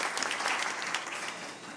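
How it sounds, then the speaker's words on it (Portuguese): Audience applause at the close of a TEEB seminar, a full, even patter of many people clapping from a room, steady for the short stretch and tapering slightly. "vamos bater palmas"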